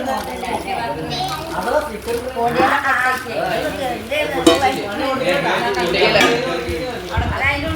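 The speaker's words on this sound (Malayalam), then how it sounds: "സെറ്റ് പാത്രം" A set of gifted dishes is unpacked at a housewarming, with irregular clinks and clatters of the pieces knocking together beneath close women's chatter throughout.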